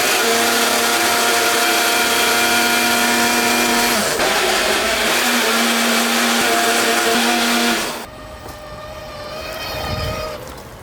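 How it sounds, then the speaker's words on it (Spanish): Rear hub motor of an Urban HMBRG electric scooter running with a loud, steady whine of stacked tonal harmonics, shifting pitch partway, then dropping in level near the end as a lower rumble rises. "Se trata del ruido del motor."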